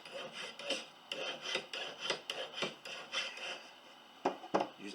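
A coarse file rasps against a silver wedding ring in quick, repeated strokes, close and fairly quiet, with brief pauses between bursts of scraping.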